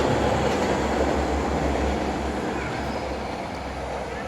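A Jakarta-area KRL commuter train rumbling past nearby, with a continuous low roar and faint rhythmic wheel noise, fading slightly toward the end.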